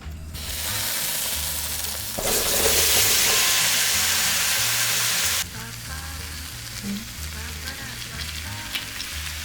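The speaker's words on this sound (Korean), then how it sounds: "제가 지금 감자 8개 분량을 볶거든요" Potatoes stir-fry in olive oil in a wok with a loud, continuous close sizzle that swells for a few seconds, then settles to a steady hiss with light stirring.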